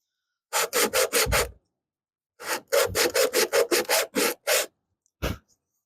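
A small piece of 60 grit sandpaper is rubbed by hand on a wooden deck box part, making close, rapid scratchy strokes in two quick rhythmic runs, then a single last pass.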